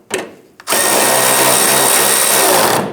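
Power tool driving the lower fender bolts on a 1997-2006 Jeep Wrangler, two short bursts followed by one loud, sustained whirring run of about two seconds, very close.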